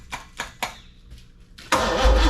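A 396 big block Chevy V8 in a 1972 Chevelle cranks in three distinct starter bursts with short pauses, then fires and catches into a loud, rough, rumbling idle up close.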